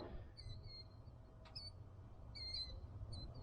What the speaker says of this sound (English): Out here we got the birds chirping.